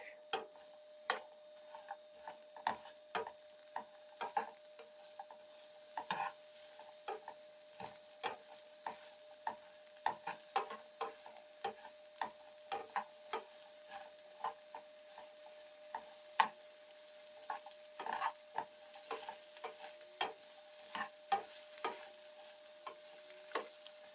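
Peppers and onions cooking in oil in a pan, stirred now and then: a quiet bed of frying with scattered clicks and scrapes of a utensil against the pan, steady throughout.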